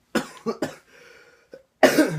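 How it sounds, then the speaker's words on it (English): Three quick, harsh coughs in a row, then a short pause, a small throat sound, and one more heavy cough. "I might be coughing a few times throughout the video"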